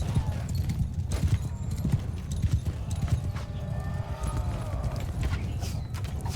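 Many hooves clip-clop and thunder together in a continuous galloping rumble of horses in the video game Mount & Blade II: Bannerlord, with a horse whinnying briefly in the middle.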